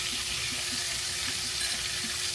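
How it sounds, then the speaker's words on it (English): Steady, bright sizzle of a pork chop frying in hot oil, constant crackle with faint low popping underneath, close and continuous. "But now it's frying on that side."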